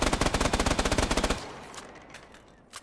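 An M4 rifle fitted with an Enforcer build fires a rapid, steady automatic burst in the video game Off the Grid, loud and close for over a second, then cuts off into a fading reverberant tail.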